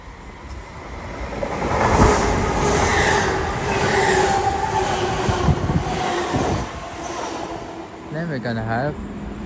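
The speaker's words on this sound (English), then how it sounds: "Soon to pass through now will be a Great Western Railway service from Oxford to London Paddington" A Great Western Railway passenger train rumbles through West Ealing station with a broad, rushing roar that swells and fades over several seconds, ending with a short squeal.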